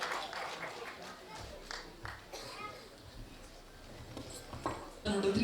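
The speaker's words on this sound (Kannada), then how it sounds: "ಮತ್ತೊಮ್ಮೆ ಜೋರಾದ ಚಪ್ಪಾಳೆ." Audience applause at a Kannada film promotional event: a dense, steady wash of clapping and crowd noise that swells briefly near the end, with voices mixed in.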